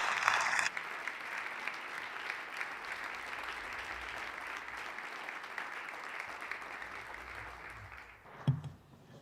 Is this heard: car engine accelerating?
no